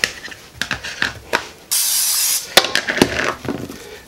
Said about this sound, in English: But we're just going to spray again.